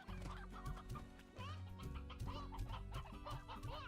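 Chickadoos and hens in the video game Slime Rancher cluck busily together in a dense, continuous flock chatter, with overlapping short clucks and a few higher calls, heard faintly and with no talk.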